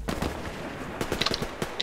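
Pistol gunshots in the video game Survarium crack out as a handful of sharp, irregular reports over a low background rumble, several bunched close together near the end.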